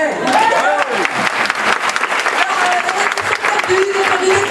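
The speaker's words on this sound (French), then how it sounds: "on les applaudit bien fort" Audience at an improv match clapping loudly in a sustained, dense burst, with voices and cheers mixed in over the applause.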